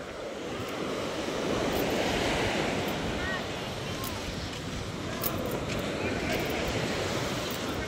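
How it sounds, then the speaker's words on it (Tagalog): Steady roar of surf with large waves washing in continuously at about 7 a.m. on the shore at Julugan, Tanza, Cavite, broadband and loud, with some wind buffeting the microphone throughout. "Lalaki ng alon."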